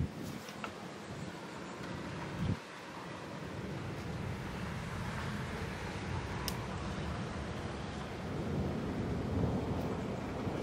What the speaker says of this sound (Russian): Хотя громыхает.